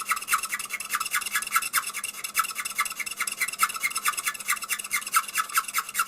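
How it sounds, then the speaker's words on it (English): A Platinum Preppy fountain pen nib being ground into a stub shape, a steady fast rasping scrape repeating in quick even strokes, close and continuous with no talking. "I'm trying to go for a stub grind and not a sharp italic grind"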